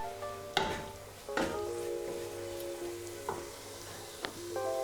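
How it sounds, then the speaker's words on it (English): Sweet corn hits sizzling spices in a pot for a vegan coconut curry vegetable soup, a soft steady frying hiss with a few sharp stirring clacks and a faint tonal hum, no talking. "So I'm gonna add the sweet corn first."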